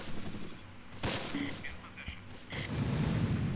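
Mortar and gunfire from the WWII strategy game Close Combat during a night assault, with sharp bursts and dull thuds scattered over a few seconds beneath low rumbling.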